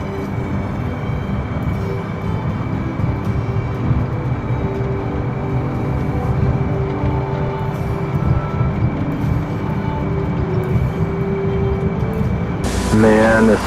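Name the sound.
aircraft jet engine spooling up in a flight video game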